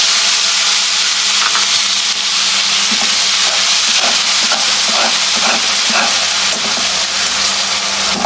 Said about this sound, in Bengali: একদম লো মিডিয়ামে পেঁয়াজগুলো নেড়ে চেড়ে, পেঁয়াজ বাটা নেড়ে চেড়ে একদম ভেজে নেব